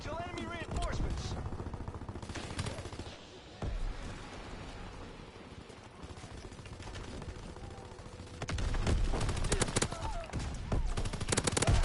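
A BAR rifle set to rapid fire in Call of Duty WW2 on the Shipment map, rattling off repeated automatic bursts, strongest at the start and end, amid dense game noise with some voice present.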